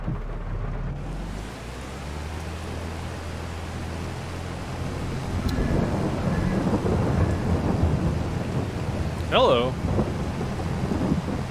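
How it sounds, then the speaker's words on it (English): Rain and thunder in the farming game Farming Simulator 22 form a steady wash of rainfall with low rumbling thunder that swells partway through, while a person says a brief greeting over it. "I love the rain and the thunder sounds."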